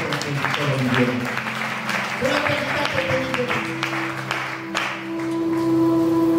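A church congregation claps in steady applause that fills the room. Music and voices carry on underneath it.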